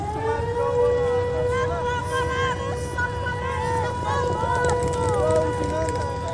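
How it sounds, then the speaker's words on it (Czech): Air raid sirens wail across Kyiv during the Russian invasion, a steady rising and falling tone spread through the whole stretch, loud over a busy city background with a murmur of voices. "Pravidelně ve městě znějí protiletecké sirény."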